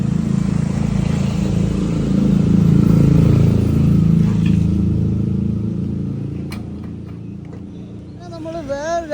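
A rented scooter ridden through traffic in Bali, with a steady engine drone and road rumble that swells and fades under a voice.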